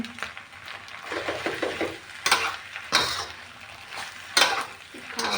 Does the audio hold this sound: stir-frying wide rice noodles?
yes